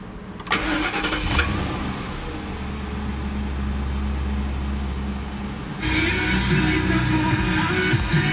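A 2011 Ford Crown Victoria Police Interceptor engine cranks and catches, then settles into a steady idle; a second surge partway through raises the rumble, all close and loud.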